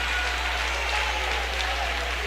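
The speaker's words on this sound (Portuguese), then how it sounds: "Vamos melhorar essas palmas para Jesus." Church congregation clapping hands in praise during a worship service: a thick, continuous wash of many hands clapping at once, steady and even, heard alone.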